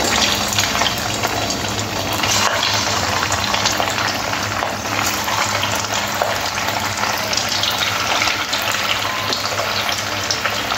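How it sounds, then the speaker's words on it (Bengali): Aloo and sesame vada fry in hot oil over a medium-low flame, a loud, dense, continuous bubbling sizzle that holds steady throughout without talk. "এরপরে গরম তেলের মধ্যে দিয়ে একদম মুচমুচে করে ভেজে নেব"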